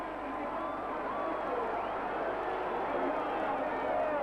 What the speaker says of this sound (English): The crowd are rising to him